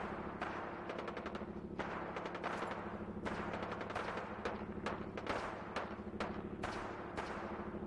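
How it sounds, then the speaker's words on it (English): Enemy gunfire in Fallout 4: rapid automatic bursts rattle in repeated volleys, fairly faint and distant over a steady low hum. "Sounds like he's shooting at somebody else now."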